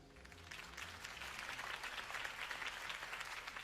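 Crowd applause after Harvey Dent's campaign speech in the Batman Telltale game swells into dense, steady clapping at a moderate distance, with no talk over it.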